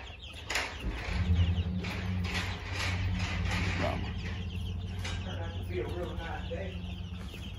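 Chickens and small chicks at feeding time on a farm, clucking and peeping nearby with a wing flap or two, while someone talks to them and to another person.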